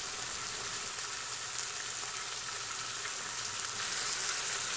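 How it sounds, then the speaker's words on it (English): A beef roast searing in an Instant Pot gives a steady, even sizzle of hot fat and meat that runs without a break, moderately loud and close, with no talking. "we're just going to brown all the sides of this just to give it that nice sear on the edge"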